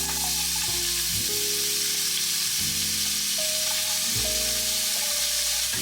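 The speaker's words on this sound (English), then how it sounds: "I'm gonna saute my onions first until they're translucent." Onions sautéing in a hot Always Pan, a steady loud sizzle of frying with occasional stirring and shifting in the pan, continuous and close throughout with no talking.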